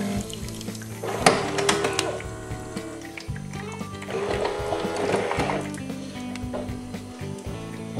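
A Siemens EQ.6 plus fully automatic espresso machine rinses its internal pipe with water, giving off a mechanical buzzing hum with gurgling, spurting water in two surges and a few sharp clicks.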